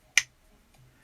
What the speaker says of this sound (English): So right here are my finger snaps.